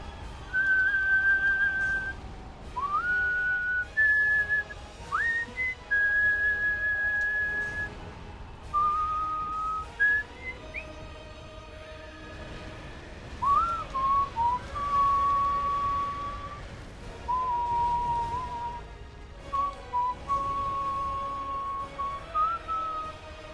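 A person whistles a Bloodborne boss theme, a clear solo melody of held and sliding notes with short pauses between phrases, loud and close over faint game background for over twenty seconds.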